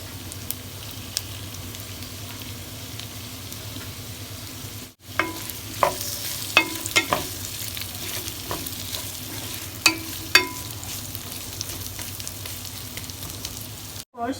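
Fried rice with sausage sizzling in a pan, a steady crackling fry throughout with a series of sharp spatula scrapes and clanks as it is stirred; nobody speaks.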